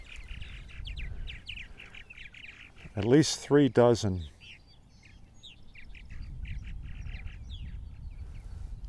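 Purple martins call at a nesting colony on eastern Long Island, New York, their soft chirps and warbles scattered throughout, while a person talks briefly and a loud squawking burst cuts in near the middle.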